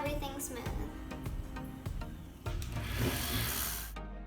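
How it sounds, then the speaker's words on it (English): Plywood shelf pieces are sanded smooth by hand, with soft irregular rubbing and scraping strokes, fairly quiet and close, under ongoing talk from a person. "next thing we need to do is sand everything smooth"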